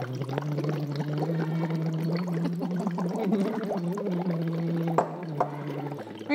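Bubbling water from air blown through a tube, a steady burbling with a humming voice tone underneath, close and continuous.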